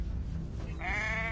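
Sheep bleating in the video game Assassin's Creed 3, a single short bleat rising out of a low background rumble near the end, close and fairly clear.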